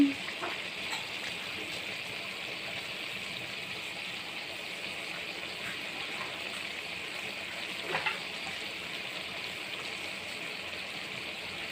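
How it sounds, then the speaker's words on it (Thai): Steady sizzling of spicy wild boar stir-fry in a hot wok, with a few metal spatula scrapes and clinks cutting through, close and fairly quiet. "ดูสิคะเสียงกระทะกับเสียงตะหลิวเนี่ย"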